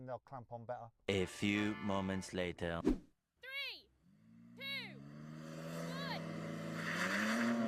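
A BMW M3 Touring and a BMW X5M launch and accelerate, a rising engine note building steadily louder in the second half after someone speaks over the start.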